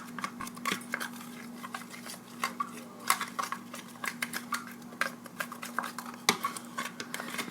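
Green slime mixture is stirred in a bowl, making a close, continuous run of wet scraping and tapping clicks from the utensil against the bowl, with no one speaking.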